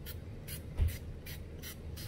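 Beauty Boothe clear extreme hold glue spray hisses out in a rapid series of short, even bursts, about six in a row, close by with no talk.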